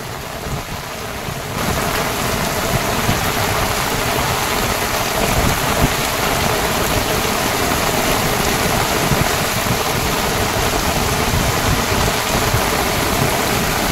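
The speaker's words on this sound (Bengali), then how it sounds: "বৃষ্টির গতি যেন যত রাত হচ্ছে তত বাড়ছে।" Heavy rain pours steadily at night over a Sundarbans riverside fishing spot, a dense unbroken roar that swells after a quieter first second and stays loud and close throughout.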